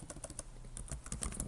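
A file name is typed on a computer keyboard in quick, even keystrokes, a close and fairly quiet run of clicks with no talk.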